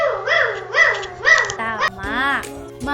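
A voice imitates a dog's bark, giving several rhythmic, high-pitched woofs in quick succession, close and clear.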